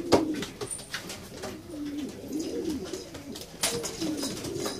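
Pigeons of a unique breed coo softly and repeatedly inside a dovecote, their low rolling calls overlapping and continuous, with a few brief sharper sounds and faint rustling throughout.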